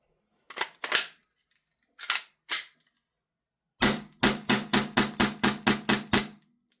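Toxicant NineX19 pistol slide kit cycling its blowback action, with four separate sharp snapping shots followed by a rapid string of about nine evenly spaced loud cracks, close and dry with silence between.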